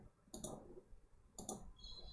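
Two sharp computer mouse clicks about a second apart, each a brief bright tick with a faint rattle, in a quiet room.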